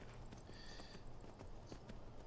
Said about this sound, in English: let's fast travel back here, just so my horse will come back